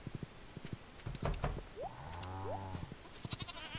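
Goats bleat in a farming video game, with two drawn-out wavering bleats in the middle of the clip over scattered clicks and light game sounds, fairly close and clear.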